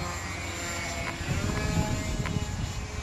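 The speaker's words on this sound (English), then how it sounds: "that motor's a screamer" Electric motor of a Blu-Baby foam RC plane whining as it flies, a steady high-pitched drone that swells slightly louder midway, with no voices.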